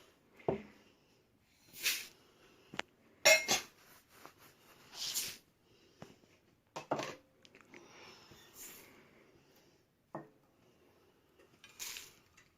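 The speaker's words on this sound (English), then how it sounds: "I'm going to put all of these together in my bowl." Seed cracker ingredients tipped and stirred together in a bowl by hand, giving scattered soft patters, clinks and scrapes in short bursts with quiet pauses between.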